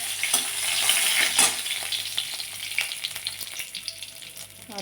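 Bay leaves frying in hot oil for pulao, a close crackling sizzle with sharp pops and spits that gradually quieten and settle into a lighter hiss.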